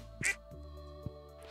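A duck in the Stardew Valley video game gives a short, clear quack, then a fainter second call, set against a steady background hum of game music.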